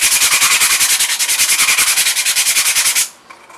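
Sandpaper rubbed along the side of a piece being prepared for base-coat painting, a close, steady run of quick rhythmic scrubbing strokes that stops abruptly near the end, leaving near silence.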